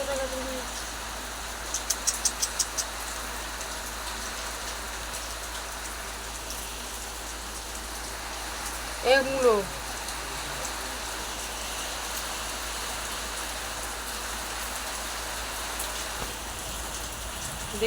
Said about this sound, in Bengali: জোরে বৃষ্টি আসছে